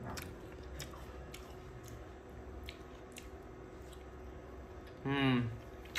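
A papaya from a Haji Saheb restaurant iftaar kit during Ramzan being eaten, with soft, faint biting and chewing clicks scattered over a steady background hum, and a short burst of voice near the end.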